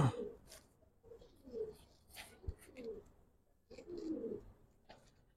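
Giribaz pigeons of an old Dhaka breed coo in soft, low, repeated bursts at close range, with quiet pauses between calls and faint background noise.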